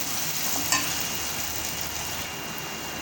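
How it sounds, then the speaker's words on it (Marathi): Onions sauté in a pan with curry leaves and asafoetida for an Indian dal-and-onion dish, a steady, close sizzle with one brief clink partway through and no talking. "आता आणखीन दोन मिनटं परतू दे आपण कांद्याला"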